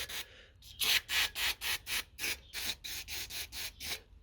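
Rhythmic back-and-forth scrubbing of a Lotus Exige S air filter, a steady series of about a dozen close, bristly rubbing strokes with brief pauses between them and no talking.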